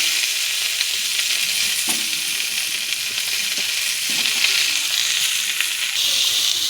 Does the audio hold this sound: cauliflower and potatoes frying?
yes